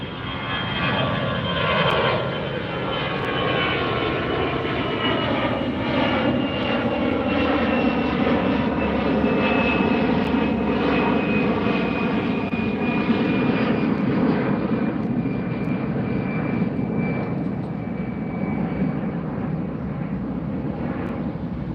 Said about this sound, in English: the A380 is going directly overhead